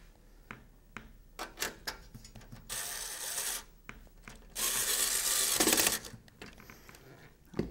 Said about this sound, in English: I'm now going to lift the case up and install the remaining screw in the side here.